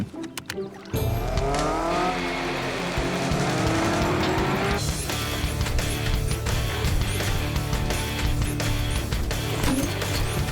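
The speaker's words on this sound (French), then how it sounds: "Et maintenant, montez dans le véhicule autonome." A self-driving vehicle in a French animated cartoon speeds off with a sudden loud engine roar and squealing tires that carry on steadily, after a brief quieter moment at the start.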